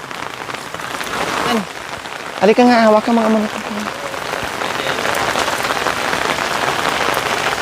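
Heavy first-of-season rain pours steadily across the whole stretch as a dense, even hiss, with voices talking over it and a short burst of raised vocal sound midway.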